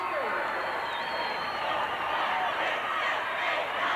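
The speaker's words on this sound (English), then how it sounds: "The crowd's going." A packed gym crowd at a 1996 girls' high school volleyball championship roars in a steady, sustained wash of cheering, loud throughout while a commentator talks over it.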